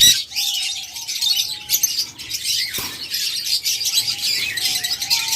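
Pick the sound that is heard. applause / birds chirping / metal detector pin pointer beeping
birds chirping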